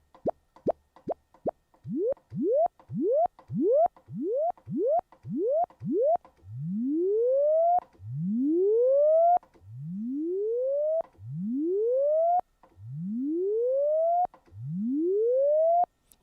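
Korg Polysix synthesizer notes with the filter envelope attack being swept: a run of short plucky tones gives way to slower swelling notes that rise and open over about a second each, repeating steadily and clearly with no voice.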